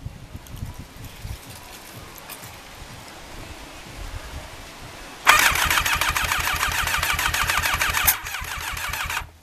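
Rebuilt Thunderace motorcycle engine cranking on a weak, flattening battery: quiet ground-level rustle at first, then a loud rapid rhythmic churning of the starter for about three seconds before it drops back to a lower steady whir.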